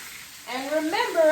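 Oxtails sizzle loudly in a pan as onions and green peppers go in, the hiss rising and spreading with each addition over a brief stretch, with no talk.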